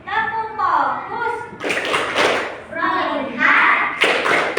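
Rhythmic hand clapping from a classroom ice-breaker clapping game, with sharp claps and thumps chanted along to a teacher's and pupils' rhythmic spoken lines in Indonesian.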